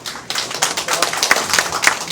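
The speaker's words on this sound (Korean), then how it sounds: "감사와 성원의 박수 한 번 더 보내주시기 바랍니다" Audience applause at a membership appointment ceremony, a steady patter of hand claps filling the room at moderate loudness with scattered sharper claps.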